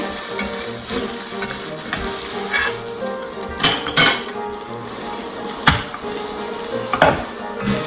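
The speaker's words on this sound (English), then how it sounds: "Now we're going to flip the salmon burger." A salmon burger sizzling in a frying pan as it gets flipped, a steady sizzle broken by a few sharp scrapes and clanks of the utensil against the pan, no voices.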